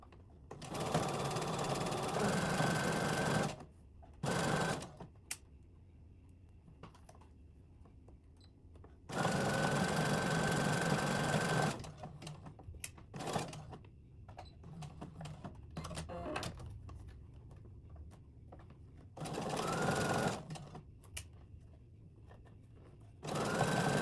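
A sewing machine stitches the back seam of a doll's T-shirt dress, running in several whirring bursts of a few seconds each, separated by quiet pauses and small handling clicks.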